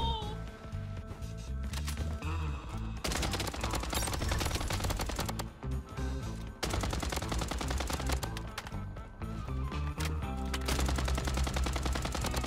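Sustained automatic fire from a SCAR rifle in the shooter game Bloodstrike, loud and close, runs in long rapid bursts broken by a couple of short pauses, with background music underneath.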